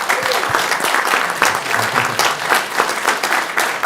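Applause for Captain Johnson at a North Augusta city council meeting, a steady round of clapping from the room, fairly loud and continuous, with a faint voice or two underneath.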